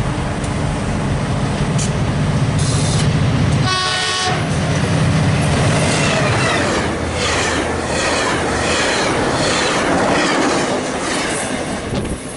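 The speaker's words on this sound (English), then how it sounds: "Attention, train approaching." A Caltrain train on the Peninsula Subdivision roars past close by, a short horn blast early on, then loud rushing wheel noise with clattering and high squeals that stay steady throughout.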